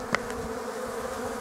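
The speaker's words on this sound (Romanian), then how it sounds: "Aici bate albinuța." A honeybee buzzes on an early-spring day in February, a steady close drone with a brief louder swell near the start.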